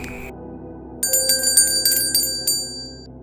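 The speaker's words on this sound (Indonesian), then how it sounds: "Setelah minum, Nelly dan Kirana mendengar suara lonceng yang dibawa oleh Nelly berbunyi." A bell rings in a quick series of bright, metallic strikes, about half a dozen over two seconds, loud and close after a brief quiet pause.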